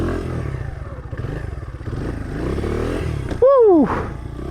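A dirt bike doing circle wheelies on a road sputters and rumbles nearby, with engine pulses and clatter, then a sharp rising-and-falling squeal near the end.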